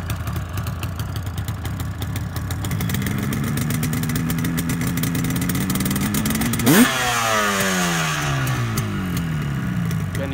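Tuned Yamaha RD350 two-stroke motorcycle, upgraded to US spec with an RD400 setup and exhaust, fired up with one kick and then revved hard, its loud crackling exhaust rising and falling in pitch up close.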